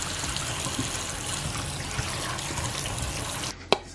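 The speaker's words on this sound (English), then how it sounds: "Now you want to rinse them off." Chopped sweet potatoes rinsed under a running kitchen tap, a steady close stream of water into the sink that stops abruptly near the end, followed by a single sharp clink.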